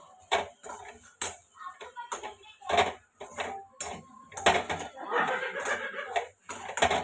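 Ingredients mixed together with coriander powder, a utensil clinking and scraping against a metal bowl or pan in irregular close strokes, with brief quiet gaps between.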